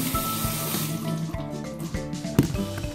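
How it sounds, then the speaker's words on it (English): Cold water pours steadily from a tap, a continuous splashing rush with a few clunks and knocks of dishes or hands moving underneath. "Cold water."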